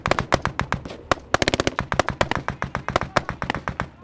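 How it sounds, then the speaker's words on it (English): Covering gunfire from Estonian forces on a ridge by a police checkpoint in Afghanistan during a fight with the Taliban: rapid, loud bursts of rifle shots crack in quick irregular succession, several close together. "Estonian forces on the ridge by the police checkpoint are able to give us covering fire as we move back towards their position"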